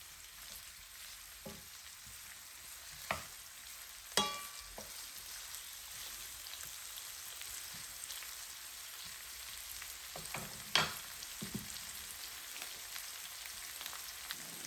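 Sardines frying in a pan for a smothered sardine dish give a steady, close sizzling hiss throughout, broken by a few sharp pops and clicks, with no voices.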